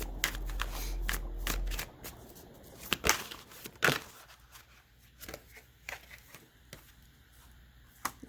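A tarot card deck is shuffled by hand: a crisp riffle and bridge at first, then scattered snaps, slaps and card flicks, close up with no talking.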